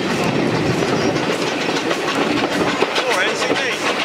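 A train on the Kent and East Sussex Railway rolls past close by, loud rumbling with rhythmic clickety-clack of wheels over rail joints, a voice briefly heard alongside.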